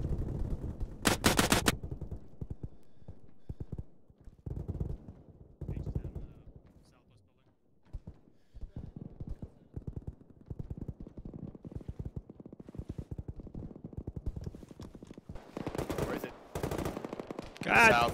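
Bursts of automatic gunfire and rifle shots ring out in a military shooter game during a night raid, loud clusters of rapid fire near the start and end with scattered shots between, under frequent talk among players.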